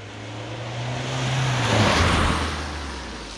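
A Mk4 Volkswagen Golf GTI 1.8 Turbo drives on a cold morning, a steady engine drone with a falling tone as it shifts, and road noise that swells and then eases.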